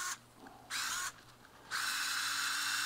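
A mini quarter-inch drive cordless screwdriver rated at 2 newton meters of torque whirs in three bursts. The last and longest one runs to the end, with brief quiet gaps between them.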